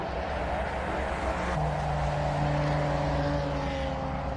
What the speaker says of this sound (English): Oh, listen to that Porsche.